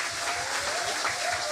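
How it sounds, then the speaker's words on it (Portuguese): Applause from the audience at a public hearing on the Tapuya-Kariri people's consultation protocol, with steady, dense clapping that holds at an even level for the whole brief stretch, faint voices under it. "Pedir uma salva de palmas a vocês."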